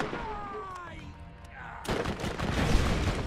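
Enemy gunfire in the video game Borderlands bursts in loud and dense, a sustained volley following a stretch of quieter game sound with a voice mixed underneath.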